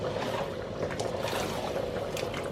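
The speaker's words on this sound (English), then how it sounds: "Oops, splashing everywhere." Ofada stew (ayamase) sloshes and splashes in a cooking pot as it is stirred, a continuous wet churning with small splatters, fairly close and steady.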